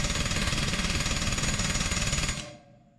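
Rapid, continuous metallic hammering on the track of a CAT D3 dozer during track splitting repair, loud and close, running steadily for over two seconds before cutting off abruptly.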